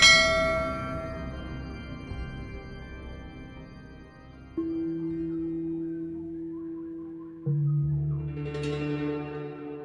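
A bell rings out in a few separate strikes, each note sustaining and slowly fading, clear and fairly close with no talking.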